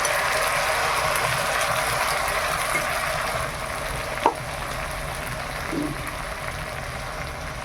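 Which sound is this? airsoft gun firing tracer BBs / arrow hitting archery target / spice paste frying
spice paste frying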